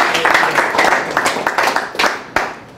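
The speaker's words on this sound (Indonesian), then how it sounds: "Berikan sorak-sorai buat" A church congregation cheers and applauds during a Sunday service, a steady wash of crowd noise with a few sharper claps and shouts standing out over nearly three seconds.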